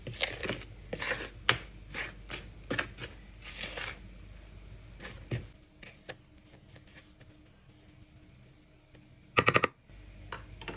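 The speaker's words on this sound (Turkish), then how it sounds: "Unumuzu da ekledikten sonra kaşık yardımıyla karıştırıyoruz." A spoon stirs a thickening flour mixture, making irregular close taps and scrapes against the pot that thin out midway, followed by a brief loud cluster of clatters near the end.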